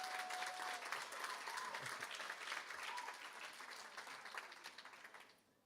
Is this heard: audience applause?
yes